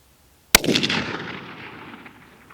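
One 6.5 Creedmoor rifle shot fires outdoors during a sighting-in session: a single loud, sharp report followed by a long rolling echo that fades over two seconds.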